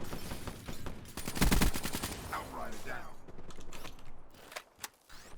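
Gunfire in the video game Call of Duty: Black Ops III multiplayer, a quick burst of rapid automatic shots followed by scattered single cracks and game effects, moderately loud.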